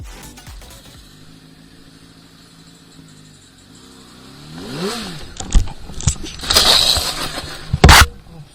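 A nearby motorcycle idles low, then its engine is revved hard in several sharp bursts, the last one loudest.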